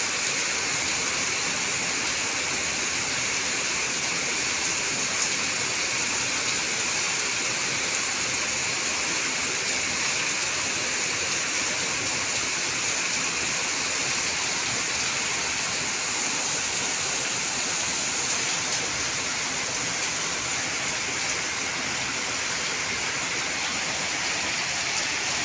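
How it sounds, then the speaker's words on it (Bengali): Heavy rain falls steadily on a September day, a constant even hiss that stays unchanged from start to finish with no voices, like a broad wash of water noise. "প্রচুর বৃষ্টি হচ্ছে।"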